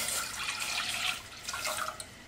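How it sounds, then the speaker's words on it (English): Two cups of whole milk pour steadily into a saucepan over medium heat for pastry cream, a soft continuous splashing stream heard close and alone. "into this saucepan over medium heat, I'm going to pour 2 cups of whole milk"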